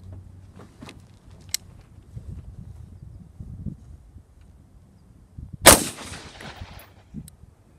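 Gunfire at a standalone Division Armory level III+ armor plate from about 10 yards: one loud, sharp report with a ringing tail stands out amid quieter handling noises and faint thumps, with no talking.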